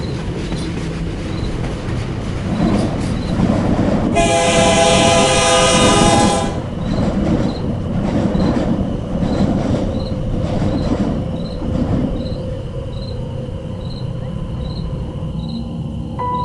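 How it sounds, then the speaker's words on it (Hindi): A train rolls in at night with a steady, loud rumble of wheels and carriages, a long bright horn blast sounding early on, then continuing clatter and faint squeals as it keeps moving, no voices. "रात 2 बजे ट्रेन देवगढ़ गांव पहुंचती है।"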